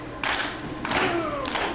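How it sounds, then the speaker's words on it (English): A wrestling crowd in Kalamazoo claps in three short rhythmic bursts, each a dense wash of hand claps rising out of quieter arena ambience. "Here they are with the claps. Great crowd here in Kalamazoo."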